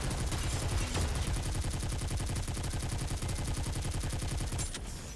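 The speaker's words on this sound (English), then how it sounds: "They're shooting another laser." Rapid repeating laser shots in the video game Goddess of Victory: Nikke, a steady rattling barrage over game music that runs nearly the whole time and cuts off at the end.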